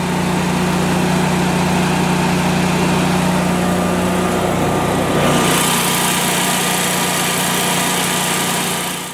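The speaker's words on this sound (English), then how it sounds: "Generators are horrifically noisy" A home backup generator engine runs loud and close with a steady droning hum and a strong low tonal whine, and the sound shifts partway through as the engine note changes and brighter noise rises.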